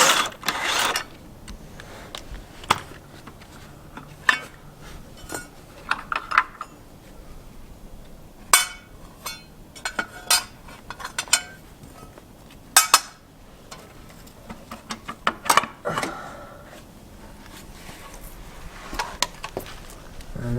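Intermittent metallic clanks, taps and rattles as a stock automatic flex plate comes off a BMW E36 being stripped for drifting, scattered bursts over a quiet workshop background with no talking.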